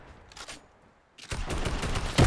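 Fortnite gunshots hit after a quiet moment, a burst of rapid close shots mixed into a rising din with a heavy blast at the end.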